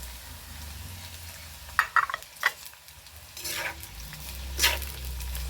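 Soft, steady frying sizzle of bitter gourd in hot oil, broken by a few brief scrapes and clinks of a utensil moving through the pan.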